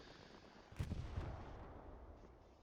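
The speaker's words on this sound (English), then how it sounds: "I think the artillery is just smoking it over and over again" Artillery shelling a barge-side garrison in Hell Let Loose, heard as one heavy distant boom that rolls out into a long fading rumble with no voices.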